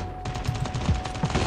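Rapid bursts of automatic gunfire crackle in Call of Duty Mobile, a string of quick shots in uneven clusters at moderate loudness.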